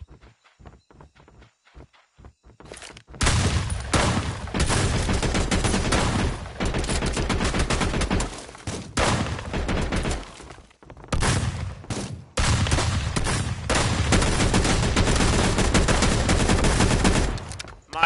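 Rapid gunfire from a shooter video game comes in long, dense, loud volleys, broken by a few brief gaps, after a quieter opening of scattered sounds.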